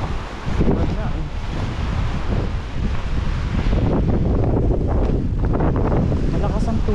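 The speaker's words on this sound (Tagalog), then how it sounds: "Ang lakas ng hangin." Strong wind buffets the microphone at Weymouth Beach, New Zealand, a loud continuous rumbling roar with surf and water churning underneath, steady for the whole stretch with no break.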